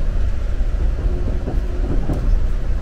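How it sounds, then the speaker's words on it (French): Steady low rumble of a Boston subway train in motion heard from inside a carriage, with faint rattling and clacking over a constant roar. "Ça y est, on a trouvé le métro."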